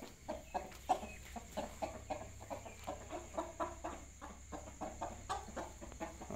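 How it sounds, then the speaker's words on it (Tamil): A hen plays in the mud and clucks repeatedly, a regular series of short, soft clucks about every third of a second over a faint background hum, with no talk. "மண்ணில் இப்படி விளையாடுது பாருங்கள் கோழி"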